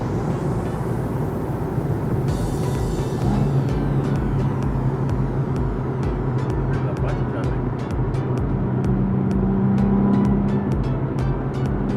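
Cabin and road noise from a Nissan 370Z rolling alongside a Jaguar F-Type, a steady low engine drone with rapid clicking ticks in the later part.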